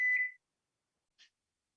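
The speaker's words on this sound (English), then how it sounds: "we're going to start a timer for 20 minutes" A kitchen timer being started for a cooking session gives one short bright beep, then a much fainter blip about a second later, in an otherwise silent kitchen.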